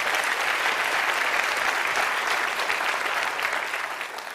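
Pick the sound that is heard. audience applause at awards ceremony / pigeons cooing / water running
audience applause at awards ceremony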